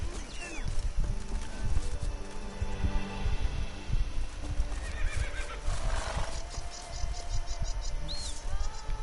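A horse in The Witcher 3 video game whinnies amid steady clip-clop of hooves over an ambient bed of insects, crickets and birds, with a faint voice underneath.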